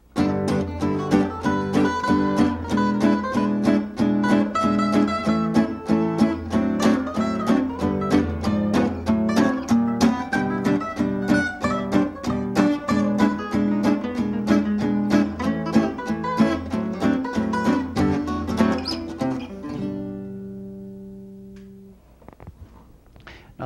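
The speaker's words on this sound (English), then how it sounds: "It's played 4 beats straight down, and the second and fourth beat are dampened" Gypsy jazz guitar playing the basic boom-chunk rhythm, four straight downstrokes per bar with the second and fourth beats dampened, a steady chugging pulse with changing chords for about twenty seconds, then a final ringing chord and a short fade.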